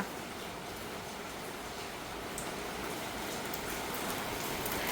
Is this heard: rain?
yes